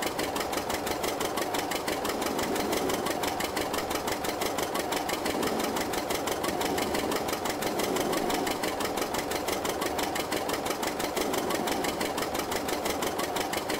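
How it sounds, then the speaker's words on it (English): A small tractor engine in a farming simulator game, working an old family farm during a canola harvest, chugs in a steady, even, fast rhythm at constant loudness throughout, with no talking. "Pretty nifty little tractor, though. I do like this one. But it's pretty slow."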